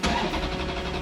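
A Porsche sports car engine cranks and catches with exhaust valves closed, bursting into a loud, throaty roar at close range in a single short moment.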